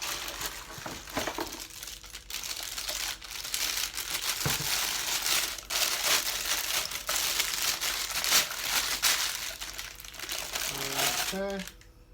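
Packing paper crinkles and rustles in bursts while a 2-inch tri-clamp steam condenser kit for home brewing is unboxed, close and fairly quiet, with a few hard clicks near the end.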